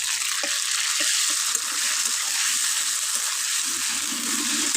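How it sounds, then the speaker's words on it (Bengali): A paste of cumin, ginger and dry red chilli fries in a pan, stirred with a spatula. It makes a steady, close sizzle with occasional soft scraping under it. "এই যে আমার মশলা ভালো মতো ভাজা হয়ে গেছে"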